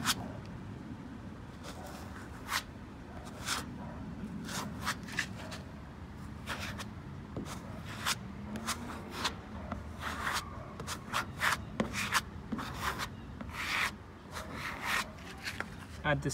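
Glazing and spot putty, a fine Bondo filler, scraped and smoothed onto a car body panel with a spreader, giving repeated short rubbing strokes in an uneven rhythm, close up, with someone talking between passes.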